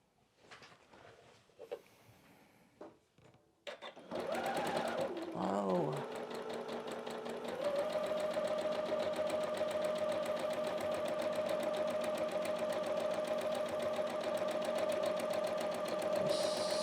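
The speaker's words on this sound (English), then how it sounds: "sewing machine's being a beast. It's a little on the aggressive side." A sewing machine starts up after some handling noises and a voice, then stitches a quilt block fast and loud with a steady buzzing drone.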